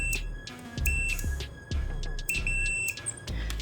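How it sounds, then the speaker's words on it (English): A multimeter emits a thin, steady electronic tone that runs through much of the clip, faint and close, alongside scattered clicks and handling knocks. "After about 1 second, it turns on, the multimeter beeps,"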